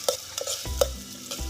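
Green chillies frying in a cooking pot at an outdoor chicken cookout are stirred with a utensil, giving several sharp scraping clanks against the pot over a soft sizzle, close and without voices.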